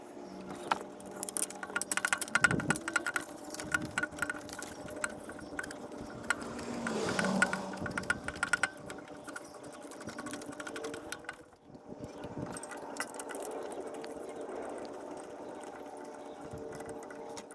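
Bolt being tightened on a Toyota Camry alternator during a water pump replacement on a 2008 Camry, giving a steady mechanical whirring with short bursts of rapid clicking and rattling, close and moderately loud, with no speech.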